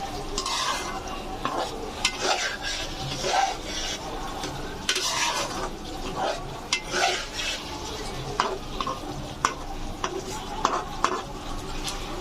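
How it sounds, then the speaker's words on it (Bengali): Mutton is stirred and sautéed in a pot over raised heat: a spoon scrapes and clacks against the metal in irregular strokes over a soft background sizzle. "বাড়িয়ে দিয়ে মাংসটাকে হালকা করে একটু কষিয়ে নিব"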